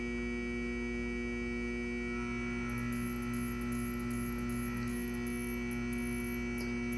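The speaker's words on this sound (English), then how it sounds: "So you can see this is able to control down to a very minimal speed on the motor." A 1950s-style thyratron DC motor drive runs the motor very slowly, a steady electrical hum with layered tonal buzz, constant and moderately quiet, with a faint high pulsing whine entering partway through.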